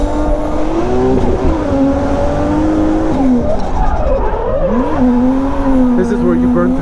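A Toyota Cresta drifting uphill on a mountain touge course, its engine droning and rising and falling in pitch while the tires squeal in long howls, loud and close from inside the car.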